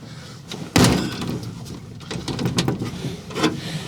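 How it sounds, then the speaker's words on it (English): A heavy door on a nitrous LS-swapped Vega thuds shut with one loud slam, followed by rattling and shuffling handling noises close by. "it's pretty hard to close this door"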